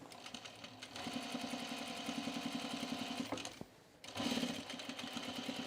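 Sewing machine fitted with a binding attachment running along a coat seam, a steady rhythmic needle thump that keeps going with one brief pause, close and unaccompanied by speech.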